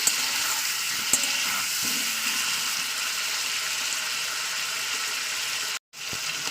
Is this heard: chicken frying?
yes